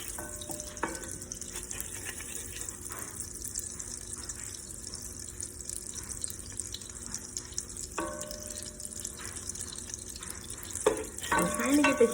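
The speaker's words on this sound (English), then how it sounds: "I kind of use the back of my spoon and kind of just spin it in a circle." Melted butter browns in a pan on an electric stove while a spoon stirs it in circles, giving a soft, steady sizzle and faint scraping, quiet and close, with brief louder clatter near the end.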